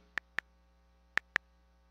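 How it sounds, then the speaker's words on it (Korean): Fingertips tap an iPad touchscreen while entering data into an Excel spreadsheet: four crisp, close ticks in two pairs, with no voices over them. "하나하나 손가락으로 툭툭 입력을 하고 있습니다"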